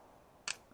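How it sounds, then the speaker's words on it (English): A single sharp click from a Sig P320 X5 pistol trigger pulled on a failure to fire, brief and close with no shot following, set against a quiet room. "I've just pulled the trigger and it seems like we have a fail to fire"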